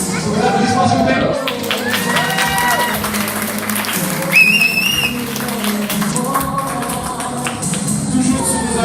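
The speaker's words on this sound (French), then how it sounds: "Sous vos applaudissements, s'il vous plaît." Steady applause from a wedding crowd fills the whole stretch, with scattered whistles and cheers rising over it, loud and continuous.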